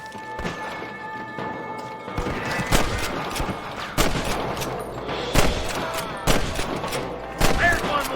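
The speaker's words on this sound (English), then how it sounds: "Good shooting, boy." Gunfire in the Western video game Red Dead Redemption: a rapid series of loud, sharp shots cracking out in irregular bursts, several close together, over a busy ambient game soundtrack.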